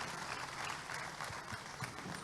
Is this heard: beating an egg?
no